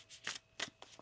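Tarot cards shuffled by hand during a reading, a few quick papery riffles in short bursts close to the mic, with no voices over them.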